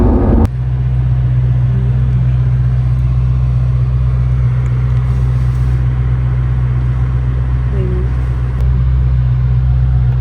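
A Ferrari Amalfi sports car cruising on the road, its engine a steady, loud low drone with constant road rumble throughout, heard from inside the cabin with no talking.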